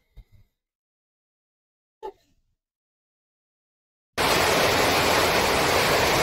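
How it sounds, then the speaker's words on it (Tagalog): Heavy nighttime rain bursts in abruptly as a loud, dense, steady roar after a few seconds of near silence broken by faint brief noises. "pagka malakas ang ulan"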